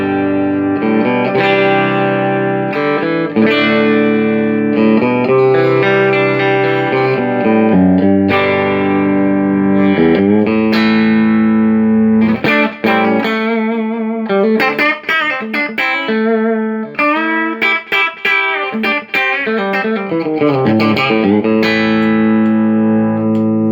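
Distorted electric guitar through an amp and a Mesa Engineering 12-inch cabinet loaded with a Celestion ceramic 7080 speaker, playing a driven riff of sustained chords and choppy palm-muted notes, loud and continuous with no talk.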